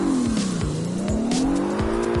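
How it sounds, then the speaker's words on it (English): A loud drifting car in the racing game CarX skids through a slide, with a continuous high tire squeal rising and falling over a steady revving engine drone, close and without talk. "Gosh, that car is so loud."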